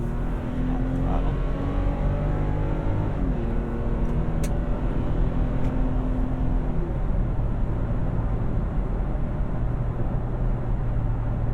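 Steady engine drone from a 2021 Toyota Tacoma TRD Off Road with its 3.5L V6 under throttle, a continuous loud hum with tonal bands rising and shifting as the truck accelerates, no talk over it.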